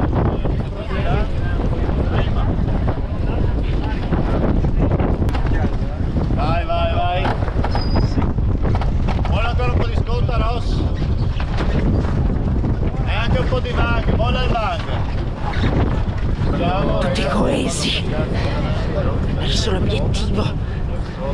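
Strong wind gusts of up to 45 knots batter a sailboat racing in the Barcolana 2021 regatta, a loud, constant roar of wind buffeting the microphone, with voices talking over it.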